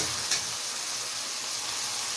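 Chopped tomato hits hot oil in a frying pan while cooking broccoli palya, a brief splash followed by a steady, bright sizzle that fills the whole stretch at moderate loudness.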